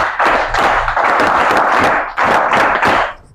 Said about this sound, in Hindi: एक बार आप सबके लिए अपने आप ताली बजा लीजिए।